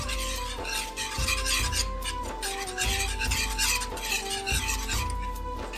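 Coconut barfi ingredients are whisked together in an unheated pan, a continuous close scraping and stirring with rhythmic strokes roughly every half second, over a steady hum, no voices.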